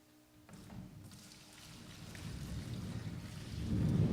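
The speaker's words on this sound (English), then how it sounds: "The storm was mighty." A mighty storm with steady rain and rumbling thunder, the broad wash building gradually and swelling to its loudest near the end, with no voices present.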